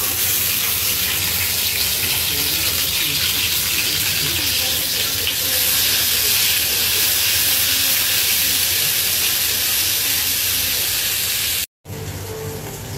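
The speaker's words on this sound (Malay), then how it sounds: "sekarang kita nak tumiskan dulu bawang Holland" Sliced onions sautéing in hot oil in a pan, giving a loud, continuous hiss and sizzle that holds steady throughout, broken by a brief gap near the end.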